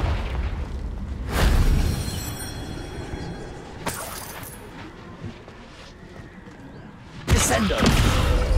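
Confringo blasting spell in Hogwarts Legacy: loud booming explosions with shattering debris bursts, set against game ambience, with a voice calling out in between.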